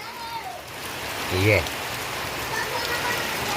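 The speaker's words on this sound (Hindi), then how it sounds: "और आज होवा तो भाई तगड़ा पानी गिरा थे।" Heavy monsoon rain pours down steadily outdoors in Chhattisgarh, a dense, continuous patter and hiss broken only by a brief spoken word.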